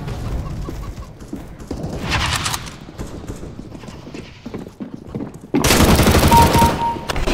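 Gunfire in the video game CS:GO comes in loud, sharp bursts near the end, with scattered clicks and thuds before it and faint voices in the background.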